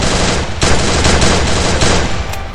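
Loud, dense automatic gunfire in the Free Fire battle game, sustained rapid bursts with brief breaks, close and unbroken across the whole stretch.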